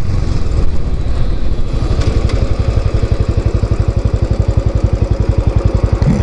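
A Royal Enfield Classic 500 motorcycle rides at about 40, its single-cylinder engine thumping in a steady, loud, close rhythm throughout with no talking.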